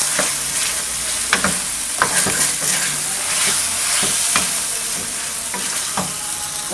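Chicken fries in masala for a spinach and fenugreek chicken curry, with a constant close sizzle broken by regular spoon knocks and scrapes as it is stirred.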